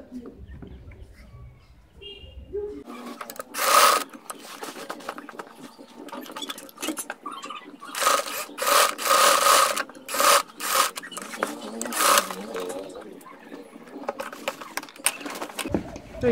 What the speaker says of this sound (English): I'm going to run a stitch along this place now